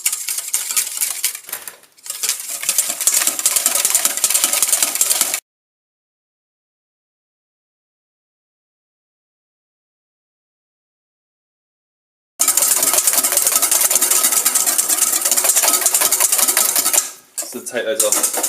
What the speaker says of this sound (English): that just helps us to whisk some nice egg whites